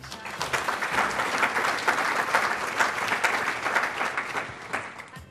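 Steady clapping from an audience congratulating an award winner, Jeff Chang, at a corporate awards event: sustained, even applause from a sizable crowd throughout, with no voices standing out.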